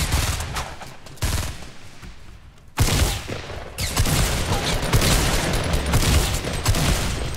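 Fortnite gunfire rattles in loud, close bursts of rapid shots, a quieter stretch first, then a sharp blast and sustained heavy firing with booms continuing to the end.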